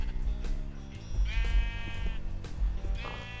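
Sheep bleating in the Minecraft video game, a few wavering bleats over a steady game background hum, fairly close and clear with no talk over them.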